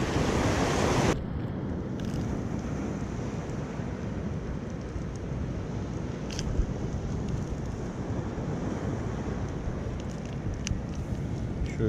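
Sea waves wash steadily onto the shore at Gazipaşa, Antalya, during shore fishing for bluefish: a continuous close roar of surf mixed with gusty wind buffeting the microphone, with no talking.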